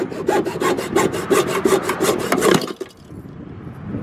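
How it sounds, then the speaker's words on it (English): A hacksaw cuts metal while a crashed tow rig is being patched, about a dozen quick rhythmic back-and-forth rasping strokes, close and loud, ending abruptly and leaving near quiet. "We're using the Advanced Auto Parts hacksaw special."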